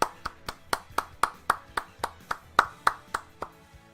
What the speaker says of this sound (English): let's get some claps for that